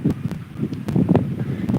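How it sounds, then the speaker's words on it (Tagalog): Wind gusts at the seaside blow across the microphone under a tree, producing close, uneven buffeting rumbles with rustling bursts throughout and no speech. "Medyo mahangin."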